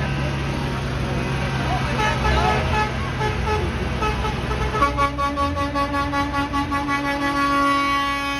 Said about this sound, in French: Vous devez entendre derrière moi tous les klaxons